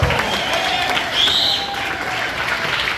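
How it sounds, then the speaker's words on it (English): Theater audience at the Bird Cage Theater at Knott's Berry Farm applauds a band during a western burlesque revue, sustained crowd clapping with some cheering and a brief whistle-like tone in the middle. "Another round of applause for the hardest working band in Hollywood!"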